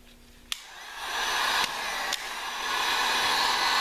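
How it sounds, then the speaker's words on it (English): Heat gun blowing steadily while glue sets on a dome ceiling forming jig with cellophane-taped edges, a continuous airy roar that swells up with a few sharp clicks along the way. "I'm using a heat gun"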